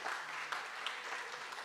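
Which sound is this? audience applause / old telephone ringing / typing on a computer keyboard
audience applause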